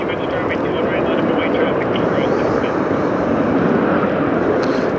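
An airliner jet at Detroit Metro airport produces a steady, loud, broad engine roar that holds constant throughout, with radio chatter faintly audible beneath it.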